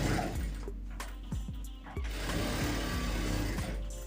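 A sewing machine stitches a rounded seam on a blouse, its motor running in short bursts with brief pauses between runs, fairly close and steady.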